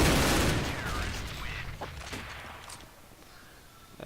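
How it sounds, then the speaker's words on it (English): Gunfire in a shooter video game, a dense burst at the start tapering into scattered shots and clatter, with no talking. "And you shoot your teammate."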